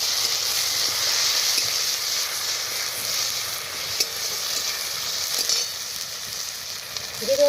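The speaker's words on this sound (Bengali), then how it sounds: "পেঁয়াজ ভাজার মধ্যে দিয়ে দেবো আদা রসুন বাটা" Ginger-garlic paste sizzles in a pan of browned fried onions for a light country chicken curry, a continuous bright hiss of hot oil that holds steady without pause and ends with a small clatter.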